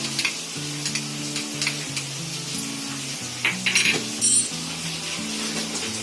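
Ginger-garlic paste frying with onion in a pan for soybean kheema, giving a continuous close sizzle with a few scraping spoon strokes and light metallic clinks near the end, no voices.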